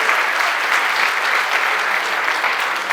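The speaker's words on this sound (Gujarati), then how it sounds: "સુરત પડસાળા પરિવાર માટે તાળી" A seated audience at a family get-together claps for the Surat Padsala family, dense, steady applause close by and lasting the whole moment.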